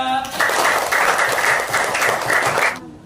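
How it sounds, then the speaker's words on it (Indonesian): A classroom group of students breaks into applause, a dense burst of clapping lasting under three seconds before cutting off abruptly, close and fairly loud. "Tepuk tangan buat semuanya."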